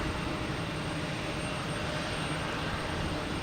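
Steady broadband roar of a JetBlue jet engine spooling up on the ground at Boston Logan Airport, continuous and fairly loud without change, no voices.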